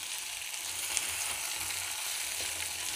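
Vegetables and tomato pieces sauté in hot oil in a pan for masala pulao, giving a steady, close sizzle with faint stirring and no talking.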